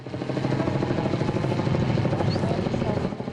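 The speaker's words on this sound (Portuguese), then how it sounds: "helicóptero no ar" Helicopter hovering in the air near a large outdoor protest crowd beside a supreme court building, its steady rotor drone loud and continuous throughout, with faint crowd murmur underneath.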